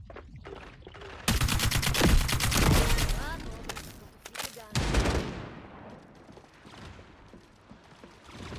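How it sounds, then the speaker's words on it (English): Rapid gunfire bursts in the shooter game FragPunk, sharp automatic volleys clustered in the middle with scattered shots before and after, a voice talking over parts of it. "he saw the gunshots up there"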